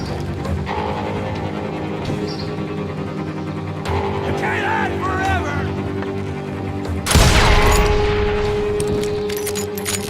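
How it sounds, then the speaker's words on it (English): Gunshots ring out in a town street in the video game Call of Juarez Gunslinger, with a sharp burst of fire late on over steady background din and a voice speaking briefly. "They're shooting in the street!"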